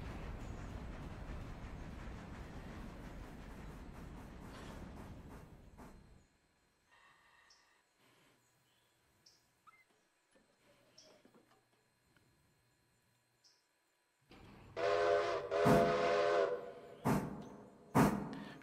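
A cargo train in the Railroader video game rumbles loudly at first, then fades to near silence with scattered small clicks. Loud bursts of whistle return near the end.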